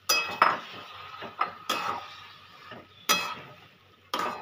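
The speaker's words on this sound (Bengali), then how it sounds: "এই একটুখানি নেড়ে নিলাম।" A spoon stirring food in a pot after a little water is added, giving four or five sharp metallic clanks and scrapes spaced about a second apart, close and clear over a quiet background.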